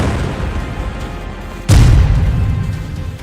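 A bomb explodes in a war-hit area, one sudden deep boom bursting out of steady background rumble and leaving a heavy low roar trailing after it, loud and close.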